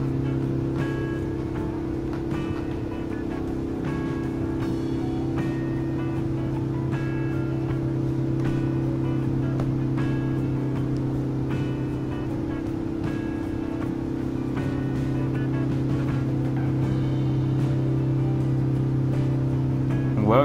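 A diesel car cruises down a nearly straight track, its engine giving a steady droning hum with faint rattles and ticks throughout, no acceleration, heard from inside the cabin.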